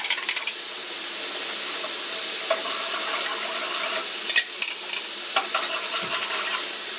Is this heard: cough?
no